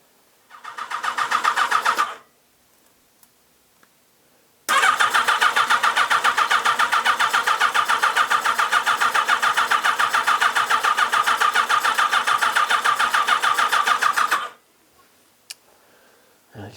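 A Yamaha XJR1300 motorcycle engine cranks without catching: a short two-second burst of starter churning, a pause, then a long steady ten-second crank with a rapid rhythmic pulse, close and loud, ending in silence with faint ticks.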